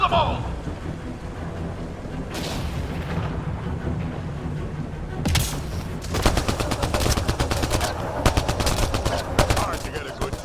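A firefight in the video game Mass Effect: Andromeda, with dense rapid gunfire cracking close and loud over a rumbling background, the bursts growing heavier and more continuous toward the end.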